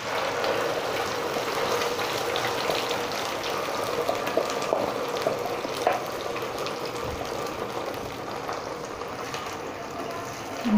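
Tomato puree poured into a frying pan, a soft continuous wet sizzle and splatter with faint clinks, steady throughout and without talking.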